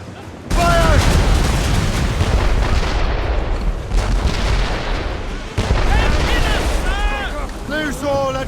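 Ship cannons fire in booming volleys during a naval battle in Assassin's Creed Rogue, loud and continuous over crashing waves, with crew members shouting throughout.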